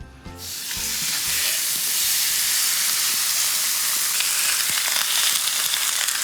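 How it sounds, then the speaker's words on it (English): Loud, continuous sizzling and spitting of steak frying in a hot pan, steady throughout with occasional pops. "While the meat sizzles away"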